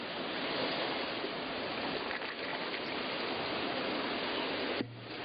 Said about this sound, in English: We're just going to let them soak here with this water running in.